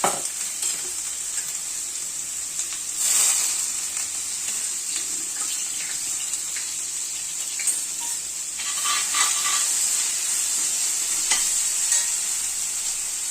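Ginger garlic paste sizzling in a hot pan for chicken fried rice, a steady frying hiss with intermittent stirring scrapes, close and continuous without talk.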